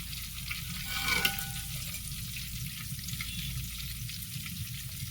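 Broasted chicken frying in hot oil gives a steady, dense sizzle throughout, with a brief louder stir or bubble burst near the start.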